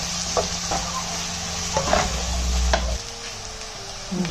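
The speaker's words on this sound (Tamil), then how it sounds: "2 வெங்காயம் பொடியாக நறுக்கிது, இப்போ அதை போட்டு வதக்குறேன்." Chopped onions sautéing in a pan for a Tamil-style drumstick and prawn gravy, a steady close sizzle with light stirring scrapes and occasional clinks, heard alone without talk.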